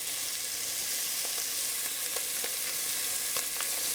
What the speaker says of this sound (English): in the same pan, we're going to add the butter and the onions, and we're going to saute